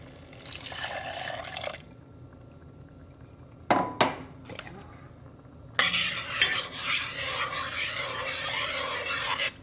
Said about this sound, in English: I'll keep pouring more of the stock in